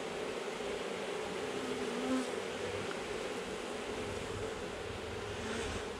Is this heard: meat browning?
no